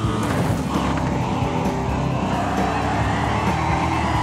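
A Stormshadow DH car engine roars loudly and steadily in the video game Wreckfest, revving with some tire noise, no voices present.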